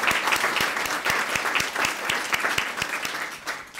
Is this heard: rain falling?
no